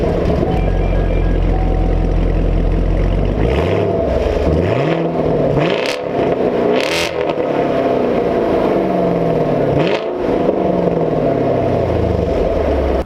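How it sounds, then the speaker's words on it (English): A 2018 Camaro SS 1LE with a stock exhaust opened up by a fuse pull, idling with a deep loud rumble, then revved hard in several sharp blips that swell and fall back, close and alone. "let's just show you real quick a quick sample of what this thing sounds like"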